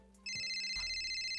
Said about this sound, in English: That must be my phone.